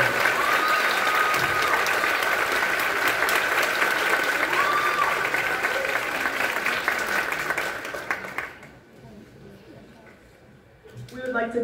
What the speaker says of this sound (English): Please join me in applauding them for their honors.